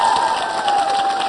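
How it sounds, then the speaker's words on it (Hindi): A quiz show audience at a women's polytechnic college anniversary claps and cheers after a correct answer, a dense, steady burst of applause filling the whole moment. "तालियां जोरों से बजाइए आपके लिए।"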